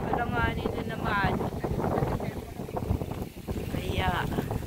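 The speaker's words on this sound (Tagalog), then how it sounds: "Ang hangin talaga, oh." Gusty wind buffets the microphone in a low, steady roar in misty Tagaytay while a person talks over it throughout.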